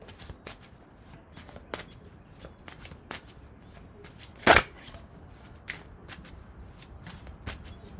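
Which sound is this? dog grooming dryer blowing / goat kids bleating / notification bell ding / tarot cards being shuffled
tarot cards being shuffled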